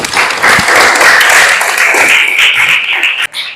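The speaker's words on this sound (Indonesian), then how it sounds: "Tepuk tangan untuk kita semua" A classroom of students bursts into loud, dense applause, many hands clapping together in a sustained wash that fades out after a few seconds.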